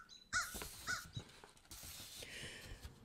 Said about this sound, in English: Then the crows chase it off.